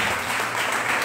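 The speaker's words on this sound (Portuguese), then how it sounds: "Vamos aplaudir ao Senhor." Congregation applauding during a church farewell service for departing pastors, a dense, steady wash of many hands clapping at close range with no gaps.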